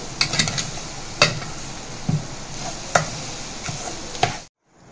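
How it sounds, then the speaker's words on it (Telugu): Coconut and sugar mixture cooking in a pan, stirred now and then with a utensil, giving soft scraping clinks and a steady low sizzle before cutting to silence at the end. "2 మినిట్స్కి ఒకసారి మధ్య మధ్యలో కలుపుతూ ఉండాలి"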